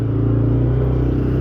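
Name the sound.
2007 Can-Am Outlander Max XT 400 ATV engine climbing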